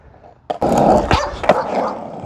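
Several dogs bark loudly and close up in an overlapping, agitated burst, with growls and yips mixed in after a quiet start.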